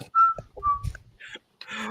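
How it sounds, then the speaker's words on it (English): A man whistles a few short, bright, rising notes on a sports podcast, close to the microphone, broken up by brief pauses and soft mouth noises. "since he was whistling"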